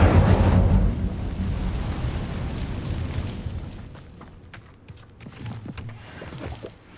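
The Incendio fire spell is cast in the video game Hogwarts Legacy, a loud fiery burst at the start that trails off into a lower rumbling crackle with scattered small pops.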